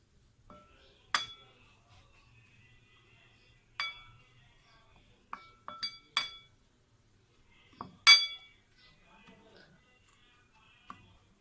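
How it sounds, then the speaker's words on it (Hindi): A spoon mixing homemade chapli kabab masala spices, including anardana, in a dish: about seven sharp, bright clinks, close and irregularly spaced, with near-silence between them. "अब हम इन तमाम अज़्ज़ा को हम अच्छे से चम्मच की मदद से मिक्स करेंगे।"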